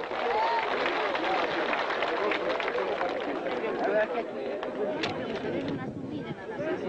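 Large crowd at an Indigenous uprising protest clapping, a dense, distant wash of applause and murmur under continuous loud chatter and voices, with occasional shouts rising above.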